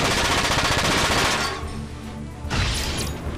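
Rapid automatic gunfire from mech weapons in the video game Front Mission 4, loud and dense, a sustained burst that briefly eases before a second burst follows.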